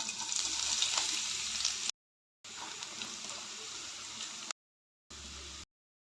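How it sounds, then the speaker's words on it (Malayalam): Onions fry in oil for a mackerel biryani, giving a steady, fairly quiet hiss in three stretches separated by brief silences. "ബിരിയാണിക്കുള്ള ഉള്ളി ഫ്രൈ ചെയ്തെടുക്കാം."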